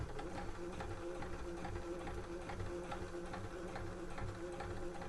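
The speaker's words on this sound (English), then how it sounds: "I'm just going to start sewing" A sewing machine stitches steadily along a fabric edge at a half-inch seam allowance while sewing trouser pockets, a quiet, continuous rapid ticking hum with no pauses.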